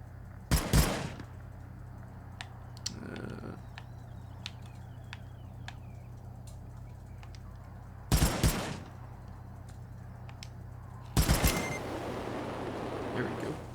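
Gunfire in the game Wasteland 3, three separate sharp bursts of shots spaced several seconds apart over a quiet, low background hum.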